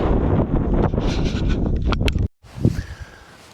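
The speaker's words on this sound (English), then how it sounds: "we do have some pretty good wind up here" Strong wind gusts buffet the microphone outdoors on a hilltop nature trail, loud and rough for about two seconds, then a brief drop to quiet before fainter rustling gusts return.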